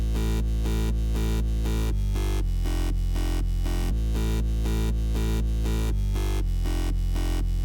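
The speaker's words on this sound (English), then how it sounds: "I'm going to lay a bass line down that sounds like this" A loud, continuous synthesizer bass line pulses in a steady rhythmic pattern, shifting notes every couple of seconds, with bright layered synth tones throughout.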